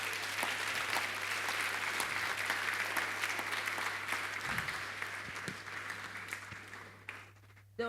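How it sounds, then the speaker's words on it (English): Applause follows a talk at a 2023 conference, a steady, fairly distant patter of many hands clapping that holds for several seconds and then thins out toward the end. "Please, another round of applause for Dr. Eric."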